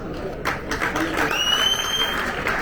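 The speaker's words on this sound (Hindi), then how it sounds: "आपने सुन ली है तालियां" Applause from a crowd welcoming India's Tokyo 2020 Olympic medal winners: a dense, steady wash of clapping runs throughout, with a high whistle cutting through midway.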